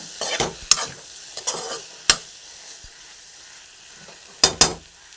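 Okra curry cooks in a pan with a soft, low sizzle underneath while a spoon stirs and scrapes in short bursts, giving several sharp metallic clinks against the pan, close up and with no talk.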